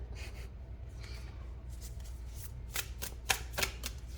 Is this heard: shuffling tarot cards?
yes